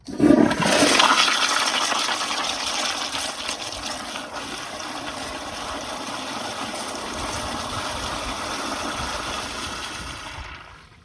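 A 2015 Kohler Highcrest toilet flushes up close, starting with a sharp lever clunk and loud rushing surge, then a steady broadband whoosh of water draining and refilling for about ten seconds before cutting off abruptly.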